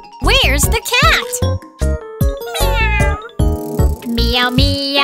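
Repeated, rising and falling cat meows in a children's nursery-rhyme song, loud and close, sounding like a sung imitation over light chiming music.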